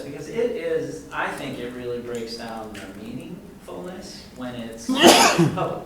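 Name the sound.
sneeze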